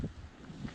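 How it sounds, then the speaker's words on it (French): Strong wind by the sea in Ireland buffeting a microphone, low rumbling gusts and broadband roar filling the short stretch, loud and close with no clear speech. "il y a trop de vent"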